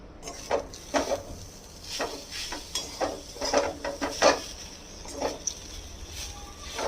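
Papaya curry in a covered pan over low heat gets stirred with a utensil, producing intermittent scraping and clinking strokes over a soft background sizzle, close and moderately quiet.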